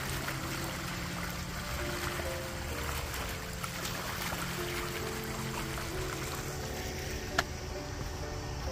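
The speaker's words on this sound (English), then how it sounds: "There's a creek that runs through here." A creek runs steadily along a low road, a continuous soft wash of flowing water heard from nearby at low level, with no talking and one small knock near the end.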